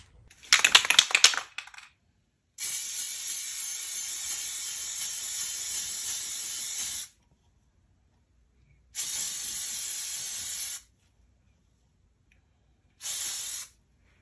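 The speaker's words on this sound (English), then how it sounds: "So now I'm gonna spray paint all this black" A can rattles briefly, then spray paint hisses out in three bursts, one long and two shorter, with silent gaps between.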